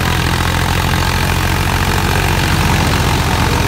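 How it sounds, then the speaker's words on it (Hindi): A tractor engine labours under load while driving a rotavator, with a steady, loud, low drone and a dense rumble that hold throughout, and no voices. "RPM ड्रॉपेज भी आया ट्रैक्टर के अंदर।"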